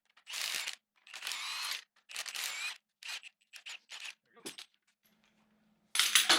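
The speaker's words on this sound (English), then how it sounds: "set that thing on there and spin the nut on" A nut spun by hand onto a Toyota Corolla strut stud during a lift kit install, several short bursts of close metallic scraping and clinking separated by brief pauses.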